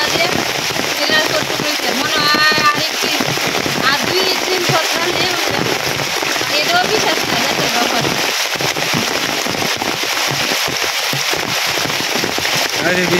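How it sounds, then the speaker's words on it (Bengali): Heavy rain pouring steadily outdoors, a dense continuous hiss and patter with sharp crackling drops, loud and close throughout with a voice talking faintly beneath it. "আরে বৃষ্টি রে বৃষ্টি,"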